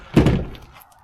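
A single heavy thunk of a Honda Element SUV rear tailgate shutting, close by, followed by a brief fading rattle.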